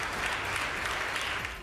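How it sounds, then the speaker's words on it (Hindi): Members of the Estonian parliament give a standing ovation to Zelensky, a dense, steady wash of many hands clapping that fills the chamber without a break. "जेलेंस्की का भाषण खत्म होने पर एस्टोनिया की संसद में बैठे हर सांसद ने खड़े होकर उनके सम्मान में काफी देर तक तालियां बजाईं।"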